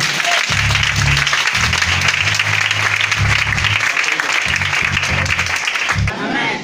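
A church congregation at a Pentecost service applauds loudly and steadily, a dense wash of clapping that holds for several seconds, with low organ-like tones and faint voices underneath before it stops abruptly.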